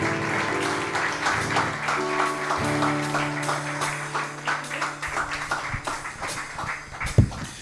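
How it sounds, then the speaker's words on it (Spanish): A church congregation at a Christian mission service applauds the King, a steady patter of hand claps running over sustained music tones, with a sharper knock near the end. "Denle un aplauso fuerte al Rey"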